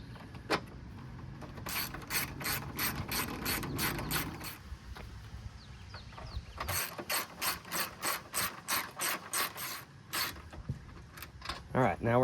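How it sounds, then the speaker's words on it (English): A ratchet snugs up 10 mm nuts on a headlight assembly of a 1996-2002 third-generation Toyota 4Runner, giving fast, close, rhythmic clicking bursts across several strokes with brief pauses between them. "So I'm gonna let it sit there and rest while I just snug up these two nuts."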